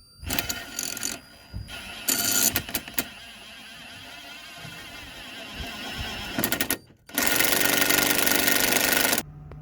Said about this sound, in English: so now we're going to use the impactor to secure it, okay, from underneath